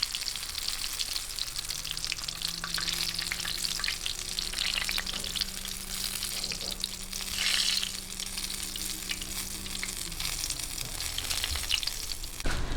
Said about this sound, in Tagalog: ngayon tapusin lang po natin ang pagpiprito